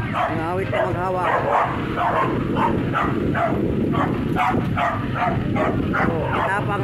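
A dog barks in repeated yips and bow-wows along a dirt highway on a mountain climb in Montalban, close and insistent, with people talking over the barking throughout.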